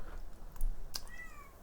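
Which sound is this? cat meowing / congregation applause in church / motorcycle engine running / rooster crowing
cat meowing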